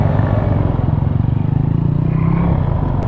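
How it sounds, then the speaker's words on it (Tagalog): A motorcycle on a Philippine street passes close by with a loud, rough engine drone and clattering rattle that swells and fades over a few seconds, with no talk. "Nakadadaan yung motor."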